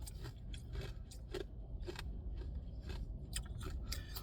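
Ice being chewed close to the mouth gives sharp, irregular crunches and cracks. They repeat every half second or so over a quiet, low background.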